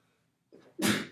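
A single sharp sneeze, close and sudden, preceded by a quick intake of breath in an otherwise quiet room.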